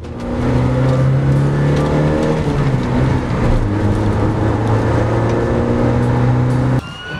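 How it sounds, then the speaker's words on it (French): A Renault 20 TS engine drones loudly and steadily at around 130 km/h on the highway, turning above 4000 rpm, a continuous strained roar with road noise that drops away abruptly near the end. "à 130 ça gueule un peu et je dépasse allègrement les 4000 tours minute"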